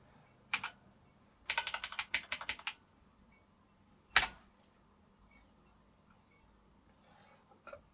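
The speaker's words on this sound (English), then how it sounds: "the function key is working as well, so I'm pretty happy that's all of the keys are now working" Keys on a restored Acorn Electron home computer keyboard are pressed in short bursts of clicks: a single tap, a quick flurry of several presses, a lone sharp keystroke, then another faint tap, in a quiet room.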